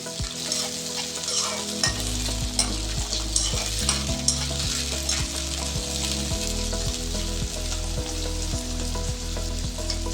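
Brinjal pieces sizzle steadily in oil in a pan while being stirred for an aloo brinjal peas gravy curry. There is continuous frying hiss with regular clinks of the spoon against the pan, close and without talking.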